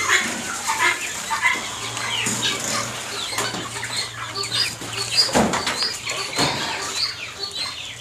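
Light Brahma chickens on a farm in Sirajganj, with wing flaps, rustling and occasional clucks in a busy, noisy pen, fairly close.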